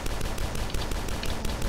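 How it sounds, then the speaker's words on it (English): Steady, dense game weapon fire from a regular shotgun in the retro shooter DUSK, a continuous loud barrage of blasts with no talk over it. "I downgrade to the regular shotgun"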